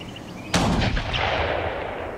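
A single loud gunshot fires a jacketed bullet in a ballistics test, with a sharp crack followed by a rumbling echo that decays slowly, against a low background hum.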